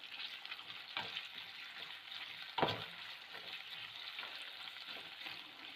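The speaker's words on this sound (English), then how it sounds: "And I'm going to add the chopped onion. So we have to fry this onion until it becomes golden brown in color." Chopped onion frying in a pan for a noodle dish made with leftover roti, a steady close sizzle with occasional louder crackles and stirring, no voices.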